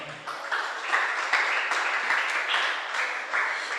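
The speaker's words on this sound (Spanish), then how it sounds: "Denle un aplauso al Señor." A church congregation claps together at a service, a steady dense applause that swells slightly in waves and holds throughout, with no voices heard.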